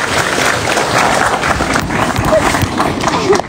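A crowd at a Javanese shadow puppet performance applauds steadily, a dense wash of clapping that holds at a constant level throughout, with some murmuring voices mixed in.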